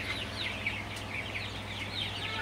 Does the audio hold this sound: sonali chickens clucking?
yes